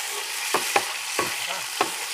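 Mustard seeds and ginger fry in hot oil in a pan, giving a steady close sizzle broken by about four sharp stirring scrapes, with no talk.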